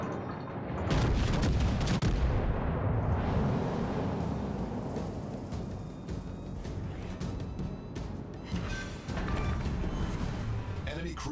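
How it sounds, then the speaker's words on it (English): Naval guns from the USN Texas fire at an enemy warship in a video game, heavy booming salvos and explosions rolling continuously and loudly, with a voice speaking over the barrage. "Concentrate fire on the enemy warship."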